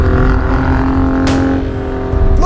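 Alfa Romeo Giulia Quadrifoglio turbo engine held high in the rev range, a loud, steady, close drone with a brief rising surge near the end, no speech over it.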